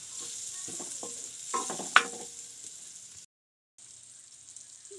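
Butter sizzling and frying in a pan while cooking tofu sisig, a steady close crackle with stirring scrapes and a brief sharp clink, dropping out abruptly near the end before the sizzle resumes.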